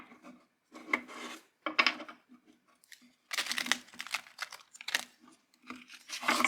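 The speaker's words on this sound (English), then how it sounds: "So let me just have a quick shuffle." A deck of oracle cards is shuffled by hand, giving several bursts of papery rasping and riffling that come in uneven, close-up clusters with short pauses between them, no talking.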